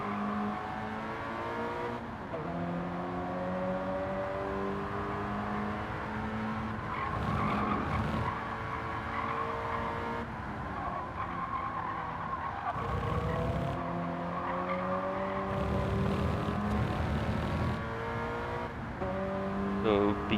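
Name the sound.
car driven fast on race track near limit of grip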